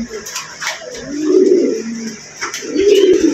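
A pair of pigeons cooing close by, soft repeated low coos in an uneven rhythm, fairly loud and alone with no talk.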